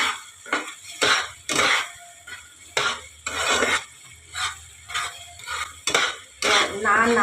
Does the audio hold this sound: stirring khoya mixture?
yes